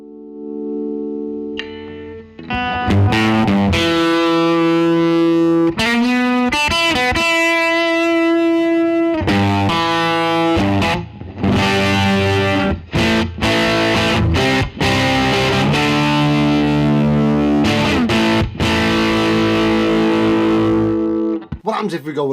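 Electric guitar played through a DIY copy of a compressor, set dirty and distorted, ringing out chords and single notes at a steady, loud level for about twenty seconds with no talking.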